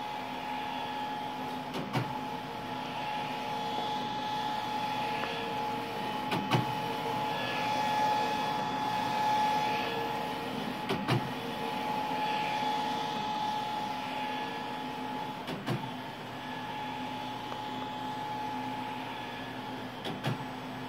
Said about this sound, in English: CJV150-75 LED UV printer.